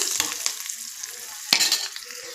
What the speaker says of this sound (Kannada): ಈಗ ಅದೇ ಕಡಾಯಿಗೆ ನೋಡಿ ಶುಂಠಿ ಒಂದು ಹತ್ತು ಹೆಸಳು ಸ್ವಲ್ಪ ಶುಂಠಿ ಒಂದು ನಾಲ್ಕರಿಂದ ಐದು ಗೋಡಂಬಿನ ಹಾಕ್ಕೊಳ್ತಾ ಇದ್ದೀನಿ ಹಾಕಿ ನೀಟಾಗಿ ಫ್ರೈ ಮಾಡ್ಕೊಳ್ಳಿ